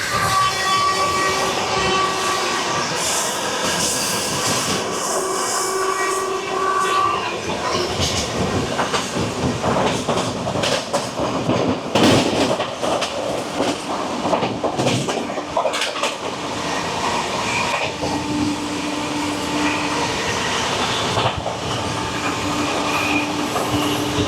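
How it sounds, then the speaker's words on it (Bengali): Shatabdi Express overtaking a goods train, a continuous close roar of passing wagons with clattering wheels, rhythmic clacks and a brief horn-like tone, no talk. "এবারে দেখুন গুডস ট্রেনকে ওভারটেক করছে শতাব্দী।"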